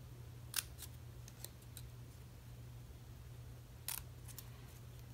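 Paper snips cut through paper in a crafting session, two short crisp snips spaced a few seconds apart over a low steady hum.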